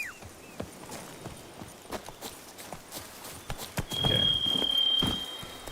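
Geralt's horse Roach in The Witcher 3 clip-clops at a steady walking gait, hooves close and distinct, with a short spoken word and a brief bright game tone near the end.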